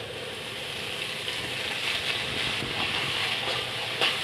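Spice paste of ground mustard and poppy seed with turmeric and chili powder sizzling in a pan, a steady soft hissing crackle, fairly faint, with no talking.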